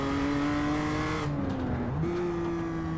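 Loud BMW M2 race car engine in a racing video game, revving high, dropping pitch on a downshift then climbing again, a sharp mechanical whine with no talking.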